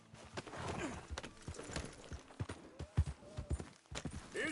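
Horse hooves clip-clop at an unhurried, uneven pace on a trail in Red Dead Redemption 2, with a brief snort or whinny near the middle; the steps sound moderately close and no one speaks.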